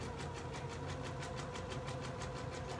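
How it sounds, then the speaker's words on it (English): Sewing machine stitching steadily along a seam on loungewear binding, a fast even mechanical whir with regular rhythmic pulses, quiet and continuous with no talk. "I'm just sewing right along that seam"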